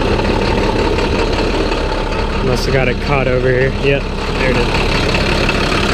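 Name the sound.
International Durastar truck MaxxForce DT diesel engine idling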